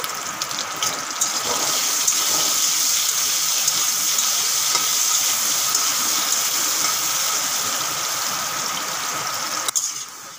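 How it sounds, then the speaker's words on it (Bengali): Potatoes fry in a pan with salt and turmeric, giving a loud, continuous close-up sizzle that holds steady for the whole stretch, with a brief clatter near the end. "একটু হলুদ দিয়ে ভালো করে আলুগুলো ভেজে নেব"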